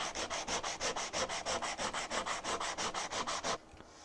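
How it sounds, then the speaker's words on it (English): Rapid rhythmic back-and-forth rasp of sandpaper on the edges of a wooden floating shelf, about two dozen even strokes close up, stopping abruptly before the end. "So, all of the edges have been sanded."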